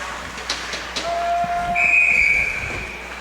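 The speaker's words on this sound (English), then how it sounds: "Whistle blown here." A referee's whistle is blown during an ice hockey game between the Wisconsin Rapids Riverkings and Rochester Vipers, giving two shrill blasts, a short one followed by a longer, louder one, over the arena's crowd noise.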